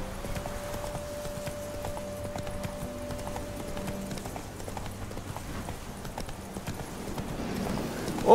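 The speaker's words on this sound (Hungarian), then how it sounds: "Na gyere, paripám. Vágta." Roach, the horse in The Witcher 3 video game, gallops with steady, rhythmic hoofbeats that carry through the whole stretch, with a faint sustained tone in the background.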